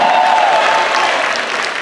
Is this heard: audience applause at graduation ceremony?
yes